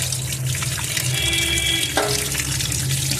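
Fish being washed under a running kitchen tap for a curry, a steady close splash of water hitting the fish and the sink basin, with a brief clatter partway through.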